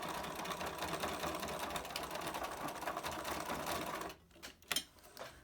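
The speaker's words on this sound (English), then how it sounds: "Now you've got a lot of fabric here going through the machine, so it might complain a little bit." A sewing machine stitches through thick layers of mask fabric, a rapid steady chattering hum for about four seconds, then a few short bursts and clicks as it stops and starts.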